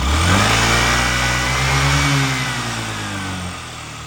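A Yamaha Jog SA55 fuel-injected scooter engine runs close and loud, a steady mid-pitched drone that rises briefly as if revved, then settles and fades slightly toward the end, with no talking.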